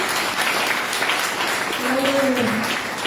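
A church congregation applauds during a Portuguese-language service, a broad steady wash of clapping lasting throughout, with a voice briefly speaking or singing over it near the end.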